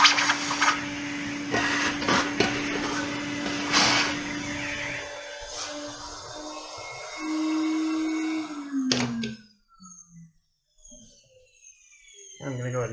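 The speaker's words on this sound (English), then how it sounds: "And let's vacuum that out." A vacuum sucks metal shavings out of a freshly tapped oil drain hole during a Miata turbo install: a steady motor hum runs for several seconds, then winds down with a falling whine, leaving quiet shop noise.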